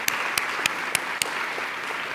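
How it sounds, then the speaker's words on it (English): An audience at a Canadian women-in-leadership business event gives steady, moderately loud applause. A few sharper individual claps stand out near the front of the continuous patter. "let's have a round of applause for all of them."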